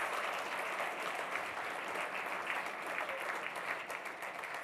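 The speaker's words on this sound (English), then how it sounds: "Give them a round of applause." Audience applause at a civic engagement event for youth, a steady, dense wash of clapping that holds at an even level for several seconds with no speech over it.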